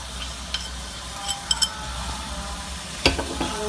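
Coconut oil sizzles softly in a pan over a low flame while a sweet pancake is being made, with a few light clinks and scraping stirs on top.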